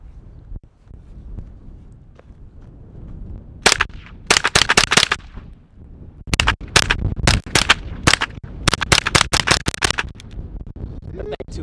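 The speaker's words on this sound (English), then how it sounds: "Gotta shoot that GSG thing." Rapid bursts of GSG .22 rifle shots ring out at close range outdoors, clustered volleys of sharp cracks separated by short pauses, loud against faint background noise.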